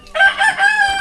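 A rooster crows loudly and close by in one drawn-out call, with faint clucking around it.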